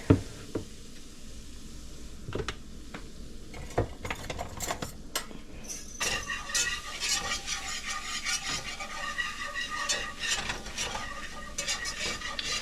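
A utensil stirs olive oil and flour together in a pan for a white gravy, with clinking and scraping against the metal that grows busier and is joined by a light sizzle partway through.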